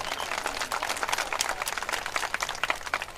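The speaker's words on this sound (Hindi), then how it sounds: "महिलाएं भी बैठी हैं, देखिए ताली बजा रही है।" Women and men in the audience at a Rahul Gandhi election rally in Solapur applaud, a dense, steady patter of many hands clapping close by throughout the short stretch.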